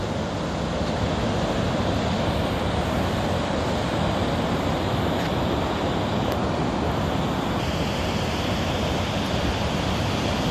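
Steady roar of ocean surf and wind on Short Beach along the cold Oregon coast near Cape Meares, a loud continuous wash with buffeting wind noise and no voices.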